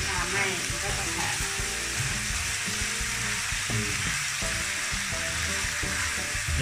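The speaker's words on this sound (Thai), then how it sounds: "ที่กระทะที่มันร้อนๆเราก็ใส่น้ำตาลเข้าไปก่อน" Steady loud sizzling of sugar in a hot wok, continuous crackle throughout with faint clatter of stirring.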